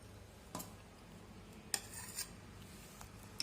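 A spoon stirs milk into cold coffee in a glass, producing faint scattered clinks and taps against the glass over a quiet background, with a few sharper strikes spaced irregularly.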